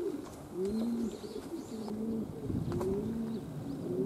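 Racing pigeons at a loft coo repeatedly in low, throaty phrases during an evening exercise flight on an overcast day, close and fairly loud, with a few faint chirps behind.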